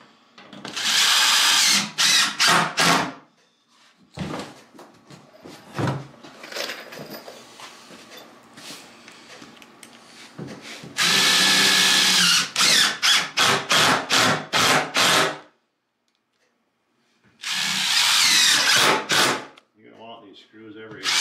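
A power drill drives screws into a plastic barrel in repeated loud whirring bursts, each ending in short stuttering pulses, with quieter handling knocks and a voice talking in the gaps.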